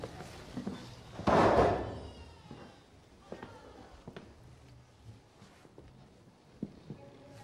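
A door is pushed open with one loud bang, followed by soft knocks, footsteps and small scattered clatters in a quiet room, with a voice faintly present.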